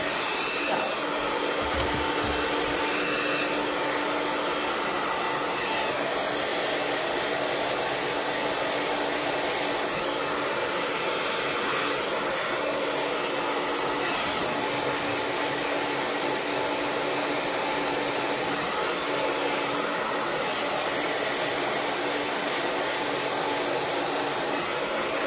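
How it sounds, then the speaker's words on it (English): A hair dryer blows steadily and loudly on curly hair for the whole stretch, a constant close whooshing hum with no pauses and no talking. "Now we're going to blow dry."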